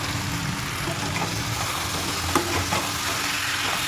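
Malabar spinach, taro, tomato and coriander stir-frying in a pan, giving a steady broadband sizzle with faint scraping stir noises and one brief clink, no talking.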